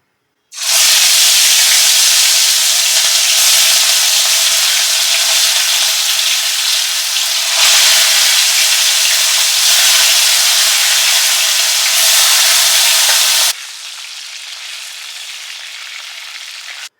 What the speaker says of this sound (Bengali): এবার প্রথমে চিকেনটাকে সর্ষের তেলে ফ্রাই করে তুলে রাখবো